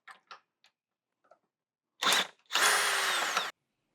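A cordless power drill with a tape-wrapped bit working a bolt on a car fender during a fender swap, a few faint clicks and then two loud close whirring bursts, the second longer and rising in pitch.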